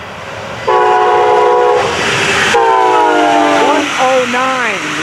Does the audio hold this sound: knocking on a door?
no